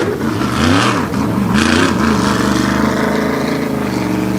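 A tour-type modified race car on track during qualifying at Wall Stadium, its engine roaring loud and near, revving and shifting pitch as it pulls through the turns, with no voices.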